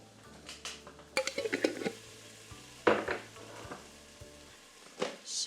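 Chopped onions fry in a soup pot, a low sizzle broken by bursts of spoon scraping and clattering against the metal, loud and close, with a brief final scrape after a quieter pause.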